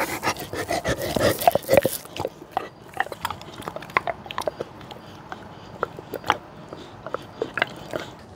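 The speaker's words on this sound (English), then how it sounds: "Rubble, would you like a Kong jerky? He's really happy" A foster pup chews a Kong jerky treat up close, with wet biting and gnawing crunches, heavier at first and then lighter, irregular chewing sounds, no speech.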